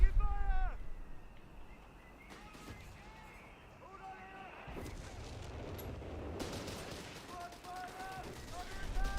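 An artillery barrage in Company of Heroes 3 lands as a series of dull booming impacts and crackling bursts. Tournament commentators talk over the explosions throughout.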